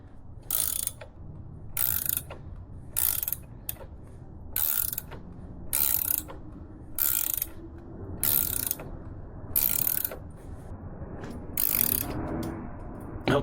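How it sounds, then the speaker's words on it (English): A hand ratchet cranks a 3/4 head to seat a cam bearing on a 2022 Harley-Davidson FXLRS during an S&S 475 cam install, with loud close repeated clicking strokes in a steady rhythm, about ten bursts with short pauses, no talk. "we're just going to tighten this 3/4 head here until the bearing seats"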